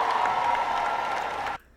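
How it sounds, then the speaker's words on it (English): A crowd at a political speech applauds steadily and fairly loudly, a dense wash of clapping that cuts off abruptly near the end. "Now that'll get some thunderous applause"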